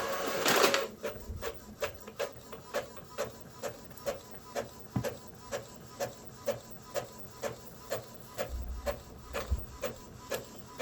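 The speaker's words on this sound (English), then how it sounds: "So let's go ahead and print test page." An Epson EcoTank 2720 inkjet printer prints a test page with a steady, rhythmic clacking as the print head sweeps back and forth, about two strokes a second, fairly close and moderately loud.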